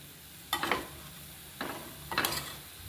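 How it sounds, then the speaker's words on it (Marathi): Gram flour is being sautéed with chopped coriander in a pan over a low flame, heard as three separate scraping stirs against the pan, soft and close, with quiet gaps in between. "हे जे पीठ आहे हे आपल्याला कोथिंबीरमध्ये परतून घ्यायचं आहे"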